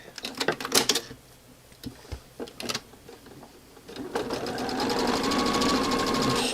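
A sewing machine stitches sparrow quilt pieces together, starting with a few short bursts and uneven pauses, then running steadily at a fast, even whir in the final seconds, close and clear with no talking.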